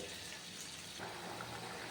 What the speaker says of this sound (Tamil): பூண்டு மிளகு குழம்பு நல்லா சலசலன்னு கொதிக்குது